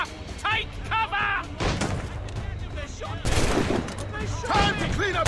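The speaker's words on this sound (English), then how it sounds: "They're shooting back!" Musket volleys crackle through a naval battle in the video game Assassin's Creed Rogue, with repeated rolling gunfire bursts and booms under excited shouting voices throughout.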